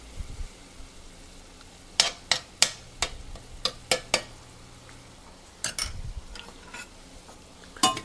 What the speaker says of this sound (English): start stirring it in with the sausage